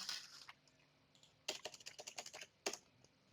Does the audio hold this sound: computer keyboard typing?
yes